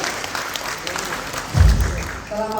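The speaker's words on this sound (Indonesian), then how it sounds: "berikan tepuk tangan yang meriah untuk KPI Jawa Timur" Audience applause at a regional official installation ceremony, a soft diffuse wash of clapping across the clip with a low thump midway and a voice coming in at the end.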